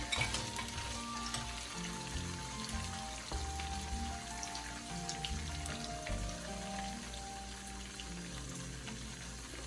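Cashews roast in a pan over a low flame with a steady, quiet sizzle and light scraping stirs throughout, all faint and close.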